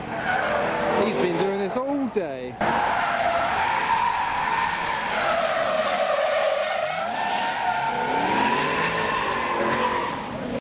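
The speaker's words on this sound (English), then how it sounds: "Jaguar have their F-Type R's giving out drift experiencing round the skid pan" Jaguar F-Type R drifting around a skid pan at a car show, tires squealing and skidding with rising and falling engine note throughout, while people talk nearby.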